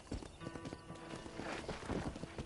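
Steady clip-clop of horse hooves on the trail in the western game Red Dead Redemption, a quick, even rhythm of soft nearby hoofbeats with faint background ambience.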